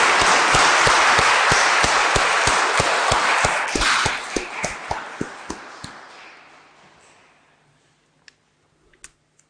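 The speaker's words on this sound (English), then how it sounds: "let us give a big clap of congratulations to our boys and girls" A school church congregation claps for First Holy Communion children, a dense burst of applause that thins into scattered individual claps and fades to a few last taps.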